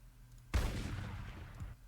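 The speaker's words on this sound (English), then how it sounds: "Sound effect, let's go for something like a shotgun." A shotgun sound effect from the Crayta game editor: one sharp, loud blast that booms and then rumbles away over about a second, heard on its own.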